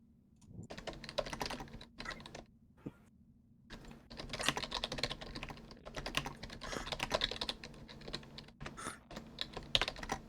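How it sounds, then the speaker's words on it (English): Rapid typing on a computer keyboard clatters in dense bursts with short pauses between them, faint and close, over a low steady background hum, with no voices. "Serious keyboard ASMR going on here."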